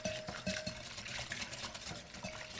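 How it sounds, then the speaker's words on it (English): Salt being stirred into dumpling batter in a bowl, a soft, steady swishing and scraping with faint utensil clicks, close and fairly quiet, with no talk. "Get that mixed in there."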